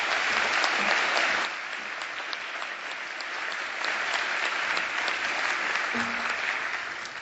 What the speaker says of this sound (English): A big round of applause for David Sedaris.